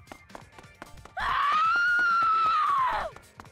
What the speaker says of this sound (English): It's a hell of a scream.